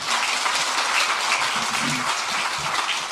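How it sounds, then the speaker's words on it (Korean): A church congregation claps together during a Sunday worship service, a broad steady wash of applause from many hands, moderately distant and even, with a few faint voices beneath. "더 크게 박수로 격려하십시다"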